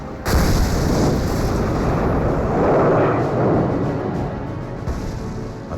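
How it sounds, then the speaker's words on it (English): A loud, sustained roaring blast fills the air, a broad rumbling explosion that swells and slowly fades without any voices. "I paused in wonderment, and then heard an explosion."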